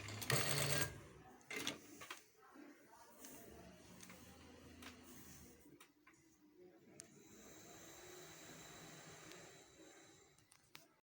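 A sewing machine stitches a trouser waistband, a faint, steady mechanical whirr with clicking needle strokes after a louder rustle at the start, heard close in a quiet room.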